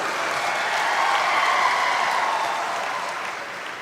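A large outdoor audience claps in sustained, dense applause welcoming two ministers at a public rally in Budhni, loud and steady throughout, easing slightly toward the end with no talk over it.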